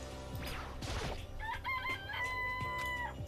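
Chickens in the video game Danganronpa: Trigger Happy Havoc crow and cluck up close, a rooster call rising clearly in the middle among sharper clucks and a brief clatter.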